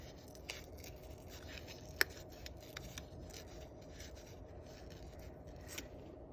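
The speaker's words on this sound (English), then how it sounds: "So I'm gonna take some black paper and tear an eye." Black paper is torn and handled by hand at close range, quiet papery rips and rustles with one sharp crisp snap partway through.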